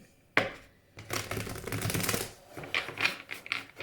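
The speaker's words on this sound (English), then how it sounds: "as I clean it and as I shuffle" Crisp, riffling card shuffles in quick bursts, a sharp snap at the start, then a long rustling run and several shorter flicks, close and fairly loud.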